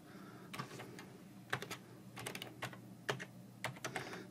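Keys clatter on a computer keyboard as information is entered into a form, irregular bursts of quick clicks separated by short pauses, close and quiet over a low hum.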